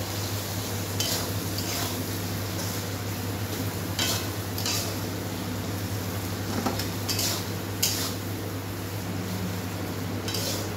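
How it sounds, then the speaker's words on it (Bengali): Onion frying in a pan with potatoes and salt, a steady close sizzle under the occasional scrape and clink of a utensil being stirred against the pan, with no talk. "পেঁয়াজটা ভাজা হয়ে গেছে প্রায়"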